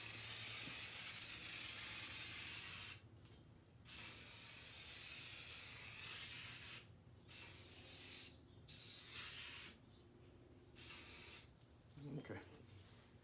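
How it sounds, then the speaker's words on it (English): Several hissing sprays of glass cleaner from a spray bottle onto a car headlight lens, short bursts separated by pauses, close by, with quiet room noise between them. "let's clean this with a little bit of glass cleaner"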